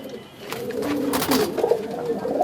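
Soft, low cooing from several Andhra and Fulsira breed pigeons close by, repeated throaty murmurs overlapping with faint rustling.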